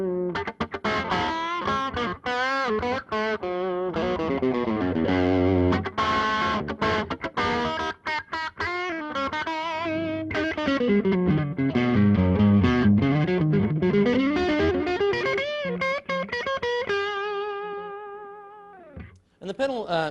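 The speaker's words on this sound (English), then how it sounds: "If we dial back the gain a little bit here, we get more mild, overdriven tones." An electric guitar runs through an overdrive pedal with the gain turned down for a milder drive, playing sustained notes and sliding melodic phrases, loud and continuous, then fading out near the end.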